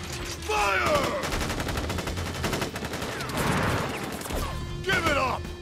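Soldiers fire a rifle volley in Crisis Core Final Fantasy VII, a dense run of sharp gunshots crackling without a break for several seconds, with voices shouting at the start and near the end.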